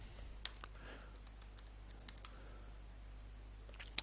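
Someone types a command on a computer keyboard, giving soft, scattered key clicks at an uneven pace with a few sharper taps, faint over a low hum.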